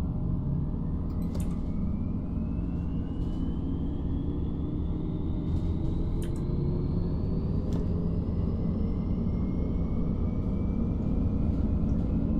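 Hybrid city bus engine in Omsi 2 on a German route hums and rumbles steadily, with a faint tone gradually rising in pitch as it restarts and accelerates, and occasional light clicks, without talking.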